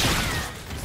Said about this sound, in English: Yeah, I'm switching weapons.